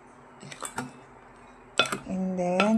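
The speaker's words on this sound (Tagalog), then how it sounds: "ihalo natin tong chocolate chips sa ating dry mixture" A utensil clinks and scrapes in a bowl while chocolate chips are stirred into a dry mixture, giving a few short metallic knocks in two bursts, with a voice speaking near the end.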